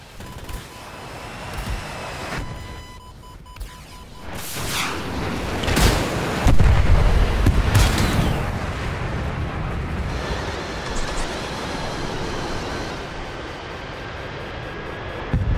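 Cannon fire from a Mirage 2000C-S5 jet in War Thunder: short bursts of gunfire over a constant roar of jet engine and wind, with a louder rumbling stretch partway through.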